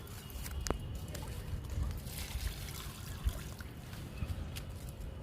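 Liquid fertilizer trickles and pours onto a hibiscus plant in a garden, a soft continuous dribbling splash close by with faint background noise.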